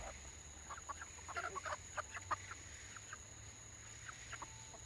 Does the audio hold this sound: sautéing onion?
no